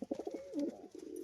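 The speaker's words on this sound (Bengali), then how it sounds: "এই যে ডাক করছে পায়রা দেখুন" A male pigeon coos nearby, a short run of soft throaty rolling notes with a brief pause, heard on its own.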